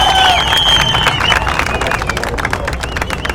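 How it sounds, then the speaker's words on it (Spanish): Outdoor crowd at a street clown show in an alameda claps and cheers steadily, a dense wash of applause with whistles and shouts mixed through a noisy crowd. "quiero que recibas con un fuerte aplauso"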